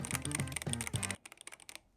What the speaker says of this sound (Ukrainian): як приємно натискаються клавіші та як вони звучать